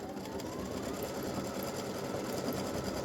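An embroidery sewing machine stitches a lace awareness ribbon in rapid, steady needle strokes, a continuous close mechanical chatter at moderate level with no talk.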